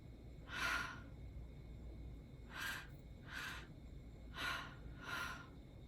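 Five distinct breaths during a counted breathwork exercise, airy breathy bursts spaced unevenly a second or so apart, close and soft against a quiet room with no speech.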